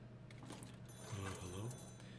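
A telephone rings twice in the video game Shadows Over Loathing, a short bright ring close by, with a voice talking over it.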